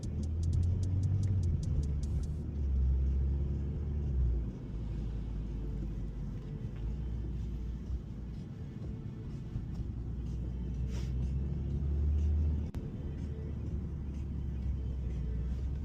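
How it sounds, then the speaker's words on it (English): A car drives through a college campus, a steady low engine and road rumble heard from inside the cabin throughout, with faint ticking at the start. "A little drive through campus."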